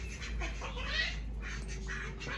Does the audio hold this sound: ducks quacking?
yes